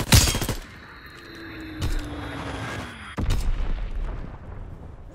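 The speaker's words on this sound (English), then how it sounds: "Bomb mission on the way." Bombing-run explosions in the Call of Duty WWII game on a London Docks map: a loud blast opens, with further booms near two and three seconds. A descending whistle and distant gunfire run between them, and no one speaks.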